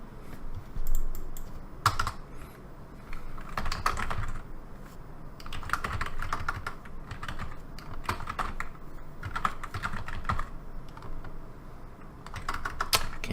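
Fast typing on a computer keyboard while writing GameMaker code, with clustered bursts of close, crisp key clicks and short pauses between them, no voices.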